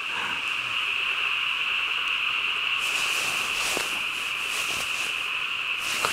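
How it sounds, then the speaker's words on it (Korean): Loud, dense frog chorus rising from below a reservoir embankment, a steady continuous croaking drone with some brief sharper calls layered on top, heard outdoors on a windy night at a fishing spot. "제방 밑에 문온이 있는데 개구리 소리가 엄청 납니다"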